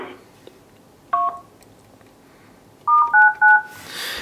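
On a Polycom IP desk phone, a short sequence of DTMF keypad tones dials *99, a single beep followed after a pause by three quick clear beeps, loud and close, with no voices.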